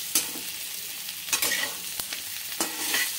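Paneer lachha paratha frying in a hot pan on high flame and being turned: a continuous bright sizzle with a few sharp scraping stirs, close and loud, with no talking.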